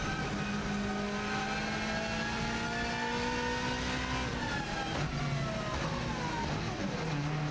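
A Subaru WRX STI rally car's engine drones through the gears on a TT lap, its pitch climbing, falling and climbing again, with tyre noise and wind under the steady engine sound.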